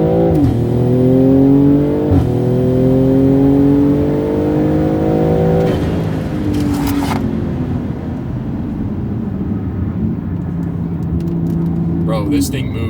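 A tuned BMW M340i with a big turbo running on E85 pulls hard under acceleration, engine note climbing steadily through gears with brief shift breaks, loud and close, while people talk over it inside the car.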